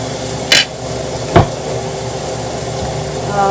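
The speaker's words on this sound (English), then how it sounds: "for the Portuguese sausage, we're just gonna like just turn it over. We're not gonna make it. We don't have to cook it because I think it's already cooked, but we're just browning it" Portuguese sausage browns in a pan under a steady close sizzle, broken by two sharp knocks of a utensil against the pan as the pieces are turned.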